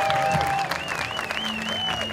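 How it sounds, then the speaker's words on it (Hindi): An audience claps together at a charity event for physically challenged artists, with dense steady applause under whistling tones and a background voice. "तालियां"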